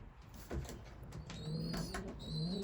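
Racing pigeons coo inside a loft, a few soft low calls rising and falling near at hand amid faint rustling and background shuffling.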